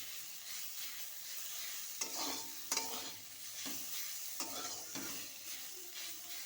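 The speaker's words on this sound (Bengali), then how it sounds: "যেহেতু পাতা অল্প তাই বেগুন দিয়েই ভেজেছি" Eggplant fries with gima bitter leaves in a pan, a soft continuous sizzle punctuated by several sharp scraping and stirring clacks at irregular intervals.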